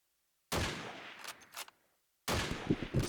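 Gunfire in the shooter game Call of Duty 2 at a competitive tournament match: two loud bursts of shots, one lasting over a second and tapering, another starting after a short quiet gap.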